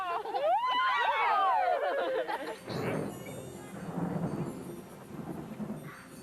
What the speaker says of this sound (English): A rare treat for us was a thunderstorm.